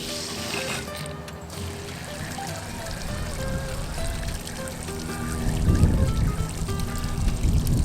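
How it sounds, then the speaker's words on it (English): Water pours and trickles steadily from a tap through an RV water filter, growing louder and fuller toward the end, with no talking over it. "I'm going to go ahead and run some water through"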